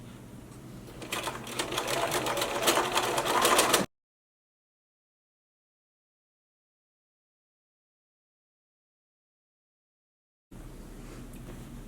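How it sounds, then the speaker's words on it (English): A sewing machine fitted with an invisible zipper foot runs in a steady, close, rapid stitching burst, falls silent for several seconds, then starts stitching again. "I have the invisible zipper foot back on my machine and I am going to sew"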